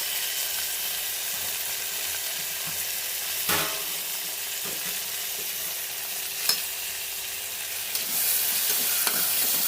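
A single large green tomato fries in a pan of biryani base for black chana biryani, giving a steady close sizzle with a few soft stirring scrapes and clinks spread through it.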